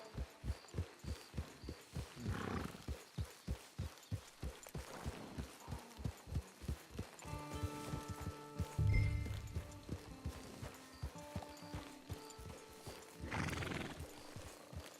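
Horse hooves clip-clop in steady rhythm in the Red Dead Online video game, close and fairly quiet, with a brief whinny and music entering partway through.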